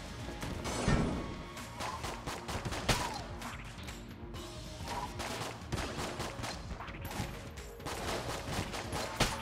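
Explosions and rapid gunfire in the twin-stick shooter Enter the Gungeon: a sharp blast early on followed by a dense flurry of popping shots and crashes, moderately loud and continuous, with no speech.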